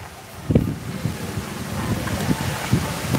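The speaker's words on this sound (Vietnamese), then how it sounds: "Giờ này gió siêu mạnh luôn" Strong night wind gusting at the Gò Kén pagoda in Tây Ninh, Vietnam, a constant roar with repeated low thumps as gusts batter the microphone.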